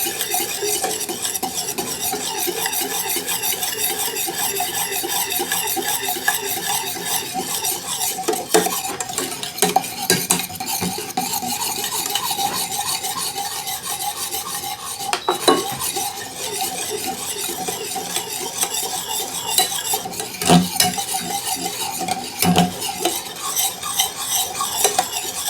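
A pumpkin gummy mixture is whisked in a bowl, giving a rapid, steady rhythmic clatter of wire against the bowl that runs without a break for about twenty-five seconds, close and fairly loud. No voices.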